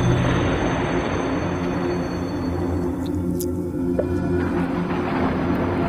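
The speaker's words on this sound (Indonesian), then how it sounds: "Kembali suara berisik klakson mobil ambulans jenazah itu membangunkanku." The horn of a hearse ambulance blares with a loud, continuous droning tone over heavy broadband noise, holding steady for several seconds with no pauses.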